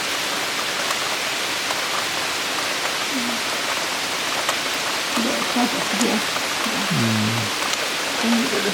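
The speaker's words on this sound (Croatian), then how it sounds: "sad je napokon došla kiša." Rain pours during a night thunderstorm in Zagreb, Croatia, after a humid day, making a dense, even hiss throughout, with a faint voice briefly heard under it and no distinct thunderclap.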